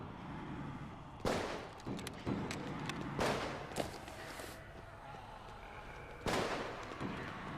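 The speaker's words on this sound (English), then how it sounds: "I can hear gunshots from my teammates." Gunfire from teammates in the video game Contagion: a few scattered sharp shots at irregular intervals, moderately loud over a steady background hum and some footstep-like shuffling, with no speech.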